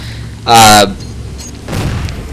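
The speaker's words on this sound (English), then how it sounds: "So I call in a scatter shot for my ordnance" Halo 4 scatter shot ordnance strike in a video game, a loud, sudden booming blast followed a moment later by a second, softer rumbling explosion.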